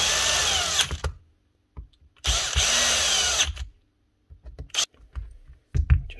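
A power drill drives self-tapping screws into a tool housing on a repair bench, with three short whirring bursts separated by silence, a few light clicks and handling knocks, then a brief final spin.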